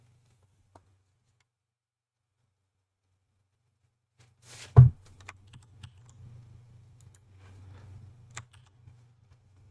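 Computer keyboard typing at a gaming setup, with quiet scattered key clicks and a low steady hum, soft and close.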